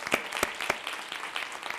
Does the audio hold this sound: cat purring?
no